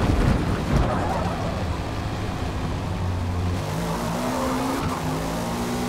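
Locked brakes on a race car in Forza Motorsport make tires skid and squeal over a steady engine drone, loud and continuous for the whole stretch, with a sharp burst near the start.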